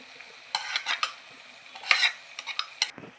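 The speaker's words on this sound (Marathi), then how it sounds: "हे आता आपण चांगलं मिक्स करून घेणार आहोत." Spoon stirring eggplant, potato and crushed popati beans in a pan, a series of short scraping clatters with gaps between, close and fairly loud.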